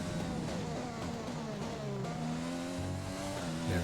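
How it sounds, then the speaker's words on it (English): An F1 car in the F1 2020 game at Bahrain, with its turbo whistling as the driver comes off power: engine tone falls and steps in pitch at slow speed, loud and continuous with a rough, broken-sounding edge. "I don't like the turbo runoff noise in this car."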